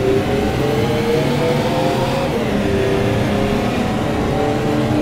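A motorcycle engine revs in the GMT driving game during a multiplayer race on an extreme rural route, a steady loud mid-pitched drone holding throughout with no voices.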